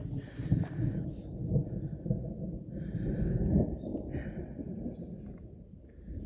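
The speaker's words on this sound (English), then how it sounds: "ooh, thunder." Thunder rumbles during a forest hike in New Mexico, low rolling swells rising and fading across several seconds, fairly distant and muffled.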